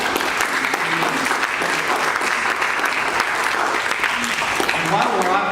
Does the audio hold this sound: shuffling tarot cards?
no